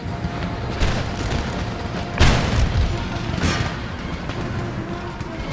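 Cannons firing canister shot in Empire: Total War, a few heavy booms with rumbling tails over a dense battle din, one blast markedly louder around the middle.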